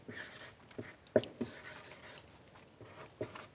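Pen strokes writing on a coffin, quiet scratchy squeaks and taps in short irregular bursts with small pauses between them.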